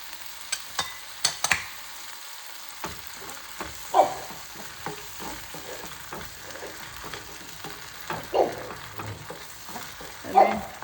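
Chinese eggplant frying in a pan with tomato sauce being added, giving a steady close sizzle broken by repeated scraping stirs and a few sharp knocks, with no talking.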